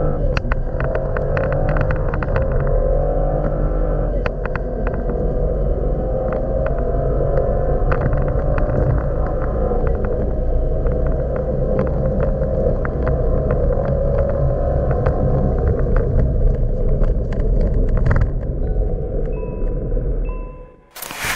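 A Cadillac ATS-V with full bolt-on modifications accelerates hard in a straight-line run. A loud, continuous engine roar holds steady for about twenty seconds and then drops away abruptly at the end.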